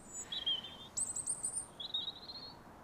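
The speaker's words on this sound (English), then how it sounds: "Oh, it's a little robin." A robin sings high thin warbling phrases from up in tree branches outdoors, faint and distant over a low background hush, with short pauses between bursts.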